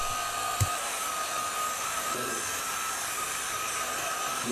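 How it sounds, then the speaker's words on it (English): A Rupes Bigfoot polishing machine with a medium pad and medium compound buffs car paint, making a steady, even whirring hum with one faint knock near the start. "Now I'm using a Roops Bigfoot machine and a medium pad with some medium compound."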